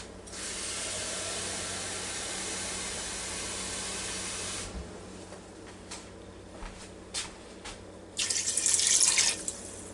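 Tap water runs steadily into a glass in a kitchen for about five seconds, a broad hiss that then stops, followed by a few faint clinks and a second short burst of running water near the end.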